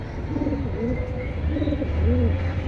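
A male Military pigeon coos close by, repeating rising and falling throaty calls in a steady rhythm over a low background hum.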